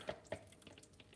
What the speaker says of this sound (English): So I'm going to pour it into the strainer.